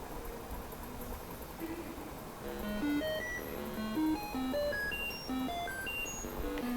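Electronic tones from a Naada Brahma acupuncture remedy device, a run of short pitched beeps stepping up and down in a quick melodic pattern, steady and fairly loud over a faint hiss, with no talking.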